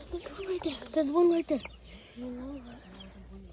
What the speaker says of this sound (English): Ooh, there's chickens.